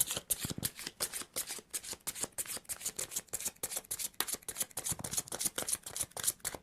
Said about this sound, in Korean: 우리 먼저 이번 분들 자신의 카드를 키퍼 카드로 2장 뽑아보도록 하겠습니다.